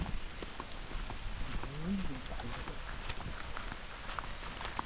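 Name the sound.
rain falling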